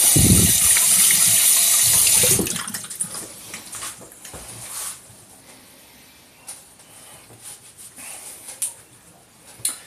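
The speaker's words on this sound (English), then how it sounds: "now I'll wash my hands real quick" Hands being washed under a running tap, a loud gush of water for the first two seconds that then shuts off, followed by quieter splashes, drips and rubbing sounds nearby.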